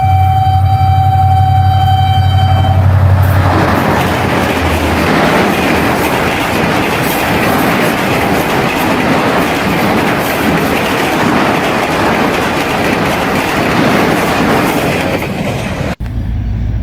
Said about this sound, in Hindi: ये इंजन सजा हुआ था, ये रहमान बाबा के खिताब में इस्तेमाल हुआ था।